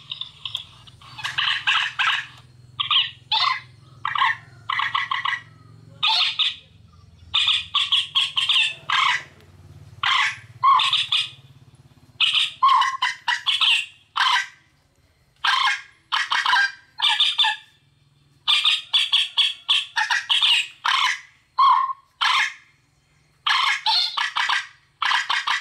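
Bird calls blaring from an HQ 301 hunting loudspeaker used for night bird hunting, loud repeated squawking bursts in a steady broken rhythm over about 25 seconds, close and with no voices.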